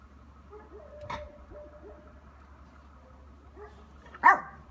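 A few faint, scattered barks from nine-week-old Yorkshire terrier puppies, a sharper yelp near the end, over a quiet low hum.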